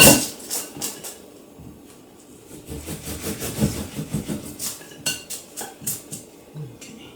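A knife saws through a coffee and walnut cake, making a series of close, rhythmic scraping strokes and light clinks against a plate or board, with no speech.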